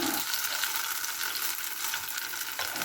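Banana slices for maruya frying in a small amount of oil in a pan, a steady bright sizzle throughout with no talking.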